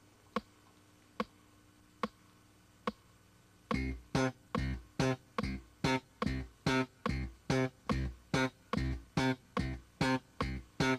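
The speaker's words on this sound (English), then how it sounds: "So playing that with the metronome, it should sound like this." Short staccato slap bass notes on an electric bass with a steady metronome: a few lone ticks come first, then clipped, punchy bass tones land in an even pulse on every click, close and loud.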